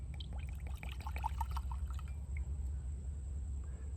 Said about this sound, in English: Let's go ahead and take my bottle of rum right here, and let's just go ahead and just pour it in.